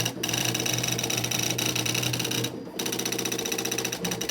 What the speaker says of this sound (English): I love this printer. It's just so loud.